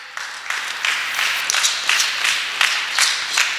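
A church congregation applauds together at a Sunday service, steady close clapping rising in bursts with no voices over it.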